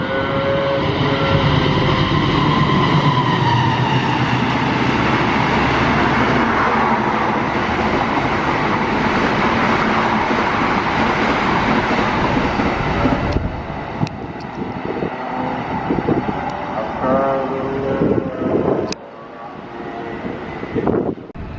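Additional passenger train PCLPN 7040 on its first run from Jakarta rolls into a station with a loud, sustained rumble and roar that drops in level about two-thirds through, continuing more softly with wind buffeting the microphone.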